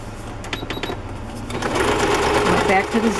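A sewing machine runs a zigzag stitch on a paper journal card, starting with a few quick needle ticks and then settling into a steady, close, busy whirr, with no voice over it.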